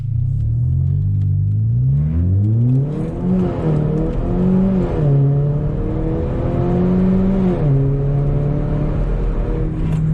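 A Mercedes CLA45 AMG W117 with a Stage 1 tune, heard from inside while driving in comfort mode: a steady engine drone that rises and falls through gear changes, loud and continuous, with no talk.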